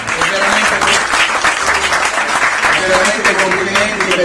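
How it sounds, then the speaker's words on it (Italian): An audience at a Miss Tifosa Biancazzurra beauty pageant for Pescara Calcio fans applauds loudly and continuously, with voices and cheering mixed into the dense clapping. "merita soprattutto un applauso di tutti"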